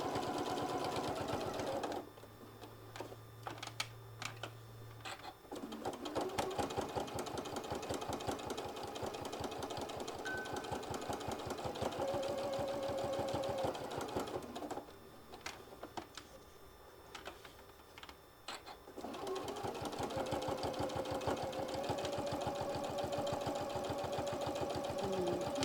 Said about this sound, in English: Couple stitches forward, back, and then go all the way around.